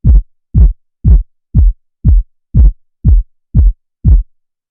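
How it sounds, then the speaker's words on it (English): Nine punchy kick drum hits built from a self-made Serum synth preset for a dark pop metal track, evenly spaced about every half second, each a deep thump with a quick pitch drop, loud and alone. "So this section consists of this kick, which again is sound designed by me."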